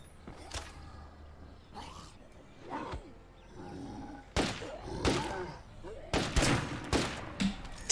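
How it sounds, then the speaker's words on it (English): Gunshots fired at an enemy in the video game State of Decay 2, a series of separate loud bursts spaced a second or so apart, growing more frequent toward the end, with no talk between them. "You saw me shoot him in the head every single time."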